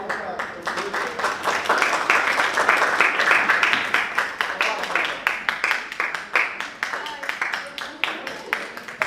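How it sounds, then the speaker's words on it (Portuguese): A school class in a filmmaking workshop breaks into applause, many hands clapping steadily and fairly close for several seconds before tapering into scattered claps, with voices murmuring underneath. "Palmas"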